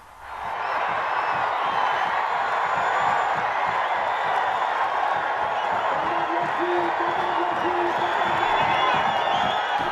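Stadium crowd in Port Vila, Vanuatu, erupting after a football goal: sustained loud roaring and cheering from a dense mass of fans, with whoops and a rising chant over the last seconds.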